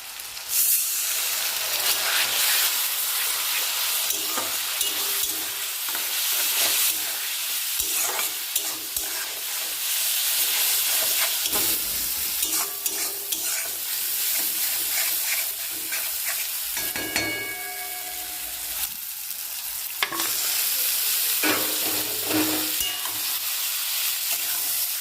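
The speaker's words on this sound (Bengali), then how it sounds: "এবার কষবো, ঢাকা দিয়ে দিয়ে এবার কষবো, তারপর প্রেসার কুকারে দেবো।" Mutton curry with Kashmiri chili powder stir-fried in a pan, a continuous loud sizzle and hiss with repeated scraping stirs of the spatula throughout, no talking.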